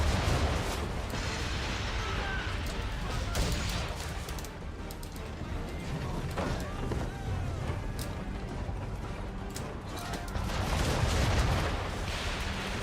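Cannon fire from a naval battle in Assassin's Creed 3, heavy booms and blasts scattered through a dense, continuous roar of battle noise, with a voice talking over the action.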